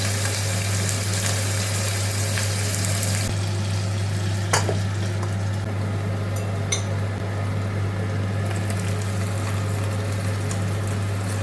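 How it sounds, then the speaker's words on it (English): Beef shank searing in a hot pan gives a steady, moderately loud sizzle and frying hiss throughout, with a constant low hum underneath and a couple of faint clinks; no one speaks. "We're going to switch this out and cook the next batch of beef shank."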